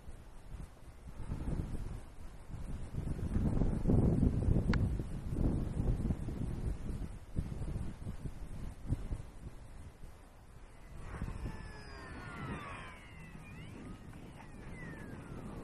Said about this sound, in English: The wind's getting a little more turbulent out here now.